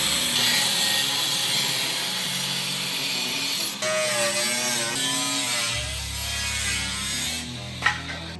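A power cutting tool grinds through a Ram TRX rear bumper locating stud, a loud sustained mechanical whine and rasp with shifting pitch that runs throughout, ending in a brief sharp clatter; no talking.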